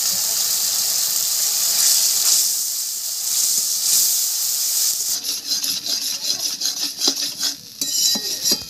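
Panch phoron, onion and spices being fried in hot oil hiss and sizzle, then a spoon scrapes and stirs against the pan in quick uneven strokes with metallic clinks.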